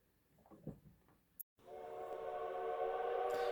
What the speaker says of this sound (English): the train started to slowly move out of the yard and start its journey down to Brisbane